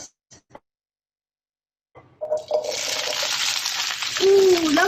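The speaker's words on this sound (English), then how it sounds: "love the sizzling sound." Following a few quiet clicks and a pause, vegetables hit a hot pan and burst into loud, steady sizzling, with stirring scrapes near the end.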